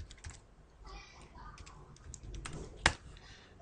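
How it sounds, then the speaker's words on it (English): Typing a command on a computer keyboard while configuring a router, with scattered quiet key clicks near the microphone and one sharper, louder keystroke toward the end. "type the same command"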